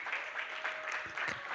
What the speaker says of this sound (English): Ladies and gentlemen, please give a resounding welcome to Madam Gesa Maturu, who's a Senior Partner